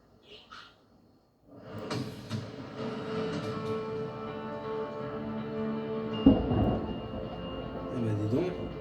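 A thunderstorm rolls through the video game Days Gone, with a long, sustained rumble of thunder that swells after a brief quiet and peaks in a heavier crash near the end.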